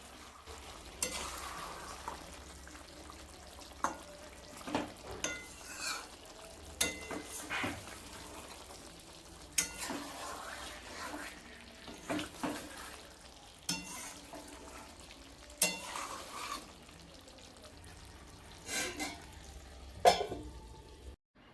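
Chicken and potato curry stirred in a pan, with soft scraping and irregular clinks of the spoon over a low sizzle and bubbling, quiet and close, in uneven bursts with pauses between strokes.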